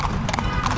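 Horse hooves clip-clopping on the street as a horse-drawn carriage moves through Marrakesh, Morocco in the evening, quick steady steps heard close with faint background bustle.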